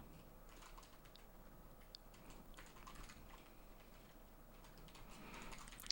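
Quiet, fast keystrokes patter continuously on a computer keyboard as a message is typed, soft and close with light irregular clicks and no talk.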